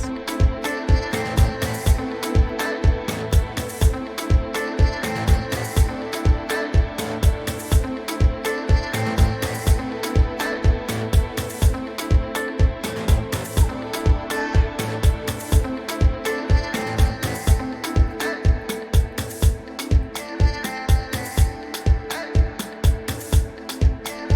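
Chopped vocal samples washed in reverb ride a steady, pounding Afro house beat, repeating in tight rhythmic stabs throughout.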